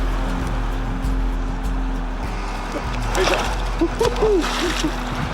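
A hooked freshwater salmon (ouananiche) leaps and splashes at the surface, a few short splashes over steady outdoor water noise, with people's voices also present.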